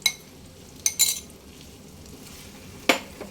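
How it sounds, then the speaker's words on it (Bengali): A spoon works yogurt into pointed gourd (potol) in a pan over a low flame, giving a few soft scrapes and clinks against a quiet sizzling background. "অনবরত নাড়াচাড়া করে দইটাকে পটলের সঙ্গে খুব ভালোভাবে মিশিয়ে নিয়েছি"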